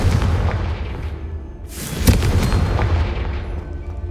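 Confringo fire spell blast in Hogwarts Legacy, a sudden loud booming burst over a constant rumbling ambience, striking once and decaying into the ongoing drone.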